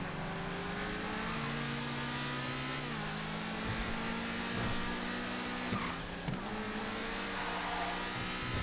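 Infernus supercar engine in a GTA FiveM racing game: a continuous droning engine tone with gear shifts and pitch changes as it accelerates, steady and moderately loud with no talk.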